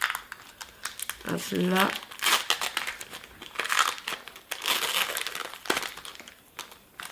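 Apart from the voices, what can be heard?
opening a Lorcana booster pack wrapper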